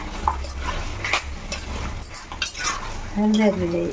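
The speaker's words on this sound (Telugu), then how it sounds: "ఇప్పుడు ఈ పేస్ట్ని మొత్తం ఇగో కలుపుకోవాలి, ఇలా మిక్స్ చేసుకోవాలి." Masala paste being mixed into chicken curry in a pan: intermittent clinks and scrapes of a utensil against the cookware, close by, with a brief tonal whine near the end.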